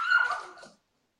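A dog gives one short, close yelping bark with a whimpering tail, loud and alone, then silence.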